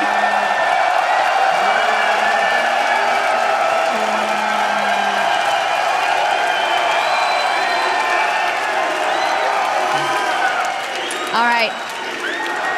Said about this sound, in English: I don't think they're ever going to stop clapping.